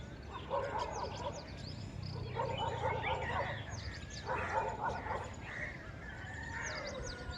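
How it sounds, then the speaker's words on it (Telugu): Dogs at play in the morning, one dog yapping off to the side in repeated short barks and yips, with birds chirping and outdoor background noise around them. "వేరే కుక్క అదొక సైడు అరుస్తుంది"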